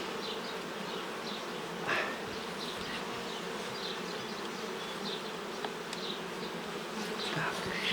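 Honey bees swarm and buzz in a steady, dense drone around an opened Ukrainian-Alpine style beehive, with a few louder bees passing close by the microphone.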